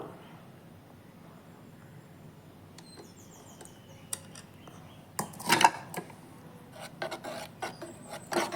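Mashed palak spinach and green gram kadayal is stirred in a pan after the tempering goes in. Faint rubbing gives way to louder, close scraping strokes of a spoon against the pan.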